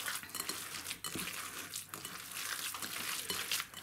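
Hands knead and squish minced meat with spices and egg for meat and pumpkin patties, wet squelching and slapping sounds repeating unevenly up close, with no voices.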